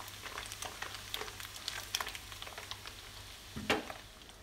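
Ground spice paste sautés in oil in a non-stick pan, a close, steady sizzle with crackling pops and a stirring scrape near the end.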